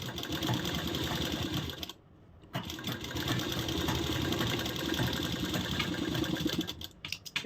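A sewing machine stitches a six-panel palazzo in a steady, close, fast mechanical whir, with one brief pause of about half a second partway through before stitching resumes.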